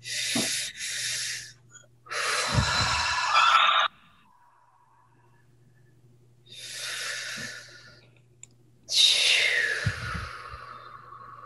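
Slow, deep breaths in and out during an ocean-breath exercise in a laughter yoga session, four long airy inhales and exhales with quiet pauses between, close to the microphone.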